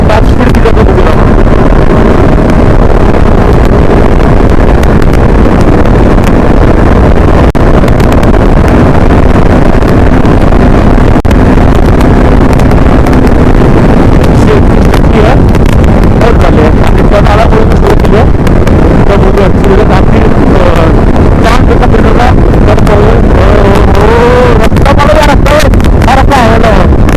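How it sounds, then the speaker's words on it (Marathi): A motorbike running at top speed on an open road, its steady engine drone buried under loud, continuous wind roar buffeting the microphone for the whole stretch. "गाडीचा टॉप स्पीड किती जातो बघूया आपण"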